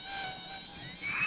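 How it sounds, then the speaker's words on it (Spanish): A dengue-transmitting mosquito buzzing close by, a steady high-pitched whine that wavers slightly in pitch and stays loud and alone throughout. "El mosquito transmisor del dengue vive en recipientes que contienen agua."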